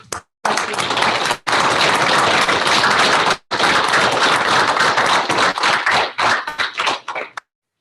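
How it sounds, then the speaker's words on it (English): A room of people at a town council meeting breaks into loud, sustained applause, with two brief gaps. It then thins into scattered, uneven claps before stopping abruptly. "I think if we could just give them more round of applause"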